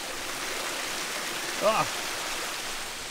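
Hot spring water pours steadily out of a small spring house in Georgia, a broad continuous rush of flowing water close by, with a brief voiced exclamation briefly rising above it.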